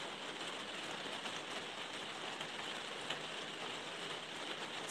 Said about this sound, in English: there are millions of fingers tapping on your window. No, it's rain.